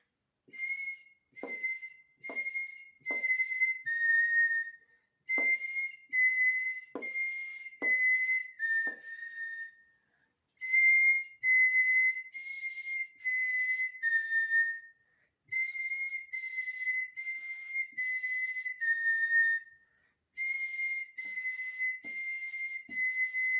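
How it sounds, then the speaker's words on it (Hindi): A whistle sounds the letters of the Hindi alphabet as a long series of short, clear, bright toots in small rhythmic groups, each set separated by brief pauses, with faint clicks underneath. "उसके बाद सीटी के द्वारा हम वर्णों को हम पढ़ेंगे"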